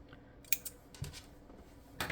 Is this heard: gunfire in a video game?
no